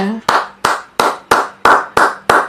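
A congregation claps to acclaim the Lord in a church service: seven loud, evenly spaced claps in a steady rhythm, close and crisp.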